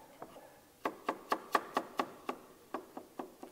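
A knife chops through turnips on a board, quartering them in a steady run of about a dozen crisp, close knocks with short pauses between cuts.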